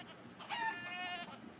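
A chicken in the video game Fortune Summoners lets out a short, bright squawking cluck over a steady background music bed, lasting about a second.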